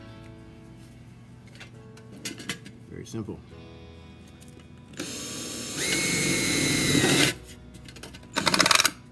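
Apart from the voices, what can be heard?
drilling a hole into wood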